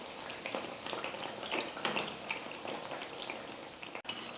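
Adhirasam, a sweet dough disc, frying in oil over a low flame, giving a steady soft sizzle and bubbling crackle throughout with no voices.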